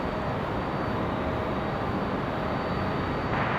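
A United airliner taxis at Raleigh-Durham airport, its engines a steady, broad, loud roar with no break, heard from a nearby vantage without talk.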